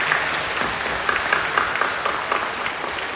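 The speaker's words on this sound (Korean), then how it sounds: "박수로 격려해 주시죠" A church congregation claps in sustained applause, a dense, steady patter of many hands filling the sanctuary without pause.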